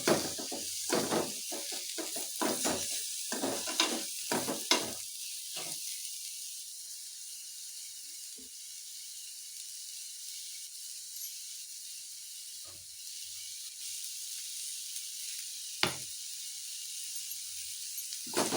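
Spices and greens fry for sambar, opening with a burst of loud crackling and hissing strokes that quickly settle into a quiet, faint sizzle with an occasional stir.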